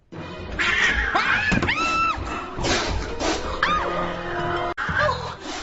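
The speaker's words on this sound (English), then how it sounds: "Oh, Fluffy, my sweet kitty, you're back." A cat meows several times in rising, drawn-out cries over a noisy indoor background with some clattering.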